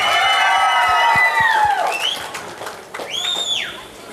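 Studio audience at a televised folk karaoke contest applauding and cheering for a contestant, crowd noise with rising whoops and shouts sweeping over the clapping, surging and then easing toward the end.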